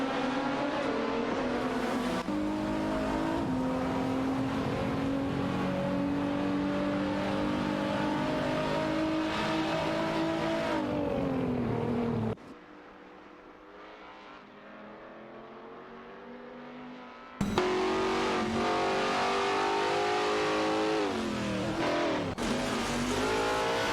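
Video-game GT race cars, a BMW M3 E92 GT2 and an Aston Martin DBR9, roar at high revs with sustained engine drones and gear-shift pitch drops, cutting out briefly to a muffled lull before the loud engine noise resumes.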